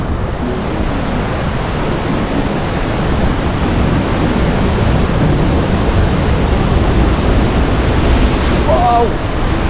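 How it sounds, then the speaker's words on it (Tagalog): Very strong rushing water surging toward the Atlantic Ocean, a loud, steady broadband roar that fills the whole stretch without pause, with wind buffeting mixed in. "Ngayon lang ako nakakita ng sobrang lakas ng tubig dito."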